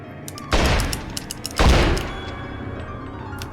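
Two loud, sharp gunshot bursts about a second apart in The X-Files: Resist or Serve, each a heavy crack trailing into a rumbling decay, with quieter game ambience between them.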